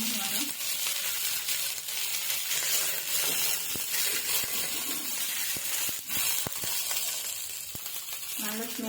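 Fresh mint leaves sizzle steadily in hot oil in a pan for a chutney, with a continuous bright frying hiss and a few sharper crackles and stirring clicks close by.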